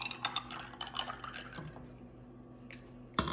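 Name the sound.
pouring juice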